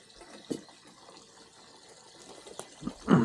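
Water running from a garden hose at a pig farm on a frosty morning, a faint steady trickle in the background with a few soft splashes and a louder gush at the very end, no talking.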